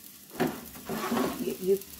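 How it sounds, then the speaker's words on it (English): Onion and garlic sizzle softly in a pan with a few stirring scrapes, quiet and close, in brief bursts over two seconds. "you can hear that sizzling"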